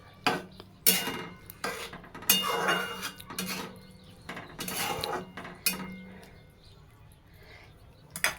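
Salt being stirred into cluster beans (gawar) cooking in a pan at home, with a spoon clinking and scraping against the metal in several distinct bursts, fairly close and moderately loud, with no one talking.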